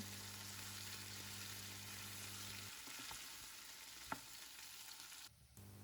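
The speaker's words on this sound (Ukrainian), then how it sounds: "Не забуваю помішувати нашу картоплю." Potatoes frying in a pan with garlic and mushrooms, stirred now and then: a steady close sizzle throughout, a low hum fading after a few seconds, and a brief sharp scrape of the utensil near the end.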